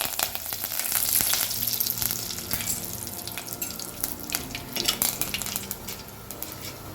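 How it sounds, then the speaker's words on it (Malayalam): Mustard seeds and fenugreek pop in hot oil while curry leaves fry, making a close, continuous sizzle with many sharp crackles and spits that swell and ease off. "കടുക് ഉലുവയൊക്കെ നല്ലോണം മൂത്ത് വരുന്നുണ്ട്, കടുക് പൊട്ടുന്നുണ്ട്"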